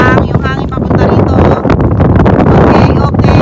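Heavy wind buffeting the microphone, a loud continuous roar with gusty rumble and flutter throughout.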